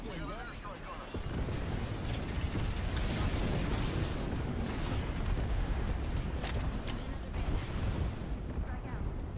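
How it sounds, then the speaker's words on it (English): Airstrike explosions rain down in the Apex Legends battle royale game, a dense rumbling barrage of booms that swells after a quiet start and stays loud, with speech mixed in. "There's definitely an airstrike on us."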